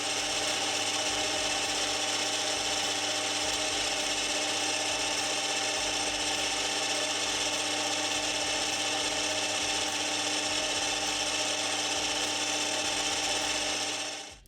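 A metal lathe drones steadily at close range, turning down the end of a part with a continuous mechanical whir and grinding scrape, unbroken for the whole stretch.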